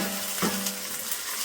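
Small chopped pieces of ginger and garlic frying in a pan for a spinach chicken curry give a soft, steady hiss with a brief utensil scrape, quiet and close, with no talk.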